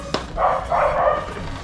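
Several dogs bark in a short, muffled burst of two or three overlapping barks, moderately close, against a steady background rumble.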